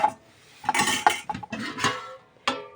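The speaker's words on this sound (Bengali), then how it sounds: "ডালের ঢাকনাটা খুললাম" A metal lid lifted off a pot of lentil dal with sajna flower (drumstick flower) in a home kitchen, giving a few close clinks and scrapes of cookware against metal in quick bursts, with no talking.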